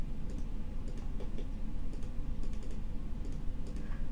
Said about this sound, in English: just hold shift and right click all the faces that you want to mask